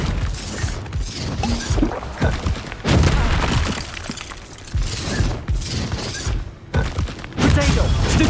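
Bombarda explosion spell cast in the Hogwarts Legacy video game, heard as a loud booming blast with crashing debris amid a busy, noisy battle, repeated bursts across the clip with a voice calling out spells.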